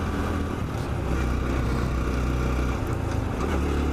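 A Honda CT125 Trail Hunter Cub engine pulls steadily up a hill, a loud, dense, continuous hum heard up close with wind rush mixed in and no voices.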